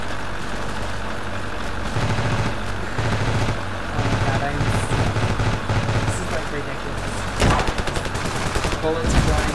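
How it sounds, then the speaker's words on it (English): Gunfire rattles continuously in a Ravenfield battle, with dense bursts of automatic fire and bullets flying among engine rumble and loud heavier shots, all under talking. "Bullets flying over here."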